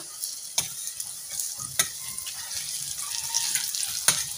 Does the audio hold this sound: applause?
no